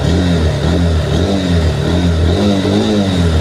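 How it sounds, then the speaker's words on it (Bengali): Honda NX motorcycle with traction control, engine revved by twisting the throttle: close, loud, steady exhaust drone with rising and falling pitch sweeps and no talk. "throttle sound"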